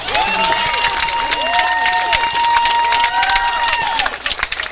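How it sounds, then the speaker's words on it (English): A crowd applauds and cheers after a five-round kickboxing bout in a cage at an amateur combat sports championship, with dense sustained clapping and crowd noise throughout, thinning slightly near the end; a ringside announcer's amplified voice rings over it. "Ladies and gentlemen, a big round of applause for both of the fighters in this cage."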